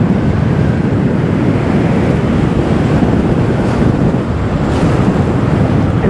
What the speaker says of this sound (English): Today seems to be moderate, some slight wind, but this road is notorious for wind